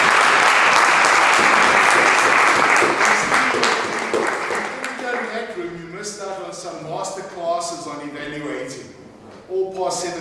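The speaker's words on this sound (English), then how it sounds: "let's give Christine a big round of applause" Loud applause from a crowd at a multi-club joint meeting, a thick burst of clapping that fades over several seconds as a voice begins speaking over the tail end.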